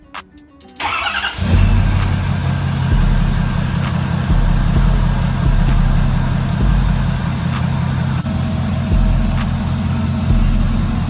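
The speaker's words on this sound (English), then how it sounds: "I'm gonna start the truck up so then you guys can see the running lights." A show truck engine cranks briefly, then catches and settles into a loud, steady idle, with no talking.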